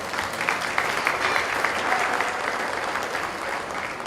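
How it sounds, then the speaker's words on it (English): An audience at a fair applauds the junior showmen, with steady, dense clapping from many hands that rises quickly and holds at a fairly even level throughout. "give our juniors a round of applause"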